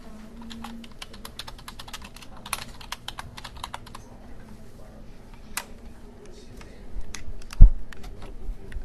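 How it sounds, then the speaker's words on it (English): Someone types on a computer keyboard: quick, close bursts of clicky keystrokes early on, then sparser taps with pauses and a sharper knock near the end. "Next, you type your title."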